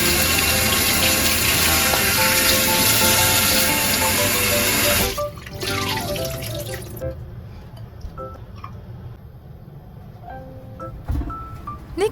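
Pork spine bones are rinsed under a running kitchen tap. A loud, steady rush of water fills the first five seconds, then cuts off to quieter splashing, handling and drips in the sink.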